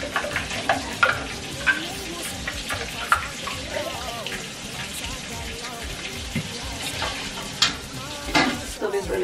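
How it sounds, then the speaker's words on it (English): Turkey stew cooks in a pot with a steady, close sizzle and bubbling. Scattered pops and clinks sound over the constant frying hiss. "I'm just gonna let it cook for at least 6 minutes before I add the ingredients"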